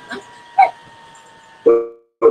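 A few short dog barks spaced irregularly, the later ones louder and fuller, with a faint tonal hum between them.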